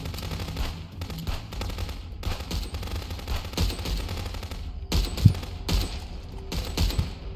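Gunfire in the police video game Contraband Police: dense, continuous bursts of rapid shots at moderate loudness, with one sharper bang near the end and no speech.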